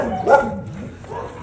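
A large Belgian dog gives a single close, loud bark that trails off, followed by a faint second sound.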